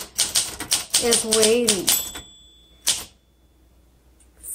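A 1961 Olympia SM7 manual typewriter clatters through a quick burst of sharp keystrokes with a bell ding, then pauses before a final strike, while a person speaks over the typing.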